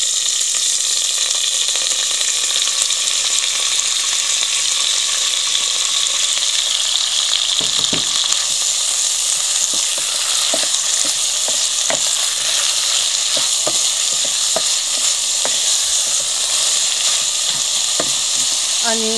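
Diced carrot, onion and peppers frying in a pan with a loud, continuous hiss and sizzle, close up, joined midway by scattered stirring clicks and scrapes.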